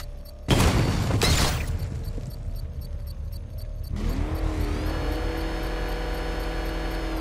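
A Batmobile engine in the Batman Arkham Knight video game revs up loud and close after two heavy bursts, then settles into a sustained droning hum that holds steady through the end.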